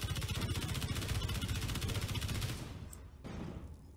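Sustained rapid enemy gunfire in a video game, a dense rattling burst that runs loud for several seconds, then cuts off into a quieter stretch with a brief renewed noise near the end.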